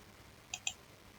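Two quick, faint mouse clicks land close together in a quiet room while a user works in drawing software.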